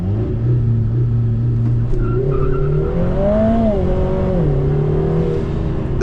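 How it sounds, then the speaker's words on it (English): A 2024 Lotus Emira 2.0T launches hard under launch control with wheel spin, its loud, close engine note climbing steadily in pitch through the gears with a continuous roar and no voices. "I'll just do the launch control with stability and everything turned off, and it should smoke away off to a nice start reasonably well."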